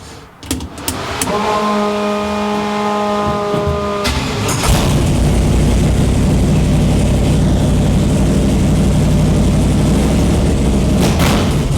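A 1949 Chevrolet Gasser with a twisted frame starts up, its whining starter giving way to a loud, steady, rumbling idle, then pulls away with deep, rising engine noise that continues close by and alone.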